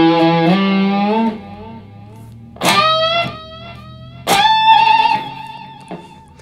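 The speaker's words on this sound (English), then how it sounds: "and then like a lead channel with some delay on it." Electric guitar on a lead channel with delay, played through an amp-free unit's built-in speaker: a sustained distorted note fades, then two bright struck notes ring out with trailing echoes, clear and fairly loud.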